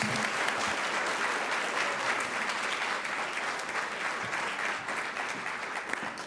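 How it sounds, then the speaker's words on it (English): Sustained audience applause for children at a school board meeting, a steady wash of many hands clapping without pause, fairly close and even in loudness throughout. "Let's give these amazing kids another round of applause."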